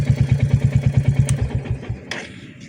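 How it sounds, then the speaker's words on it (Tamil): Motorcycle exhaust fitted with a mini Punjab silencer gives a loud, close, steady thumping idle that keeps an even rhythm for about two seconds, then softens and trails off. "இதில் நான் வந்து மினி பஞ்சாப் வச்சுருக்கிறேன், சைலன்சர். அதனால தான் இப்படி செம்மையாக கேட்குது"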